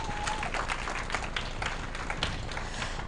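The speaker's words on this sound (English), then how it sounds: "A round of applause for them one more time." Audience applause at the Women Lead Forum in Johannesburg, a steady wash of many hands clapping that carries evenly throughout, with a faint voice audible briefly near the start.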